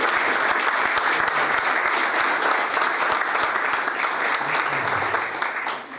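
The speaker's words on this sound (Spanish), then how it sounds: "les voy a pedir un fuerte aplauso para él" A large audience at a school administrators' education event applauds steadily and loudly, a dense wash of clapping that holds for several seconds before easing off near the end.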